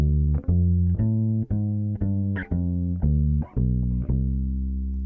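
A bass guitar plays a descending walking line of evenly spaced, sustained low notes, each clearly plucked, with no voices over it.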